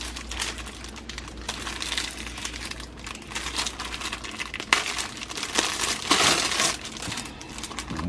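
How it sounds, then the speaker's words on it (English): Plastic wrapping around a MacBook keyboard cover crinkles and crackles close up as it is pulled open, in irregular bursts over a low steady background hum. "So I'm gonna take this out of the plastic here"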